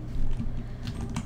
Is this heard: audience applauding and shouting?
no